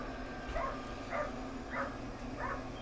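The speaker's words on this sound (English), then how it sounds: "Neighbor's dog came in the yard." A dog in a yard, a neighbor's dog, gives four evenly spaced barks at moderate distance against a low steady background, with no talking.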